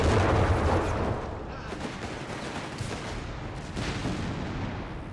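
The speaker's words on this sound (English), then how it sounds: "Mortar firing down death. Airburst shells." Mortar and artillery fire in a Company of Heroes 3 battle, a dense continuous barrage of booming blasts and gunfire crackle, loudest in the opening second and then rolling on steadily with a renewed surge near the end.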